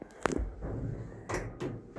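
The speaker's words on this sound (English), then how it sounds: "The doors do take a second to open on this car." KONE EcoDisc machine-room-less traction lift doors in a car park slide open, a soft rumbling glide with a thump at the start and another burst of motion near the end, close and quiet.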